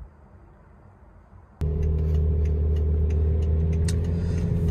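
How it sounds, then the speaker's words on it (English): A BMW X5 E70 on a test drive: after a quiet opening the engine and road rumble cut in abruptly and hold as a steady, loud drone from inside the moving car. "I'm going to take it out for a test drive"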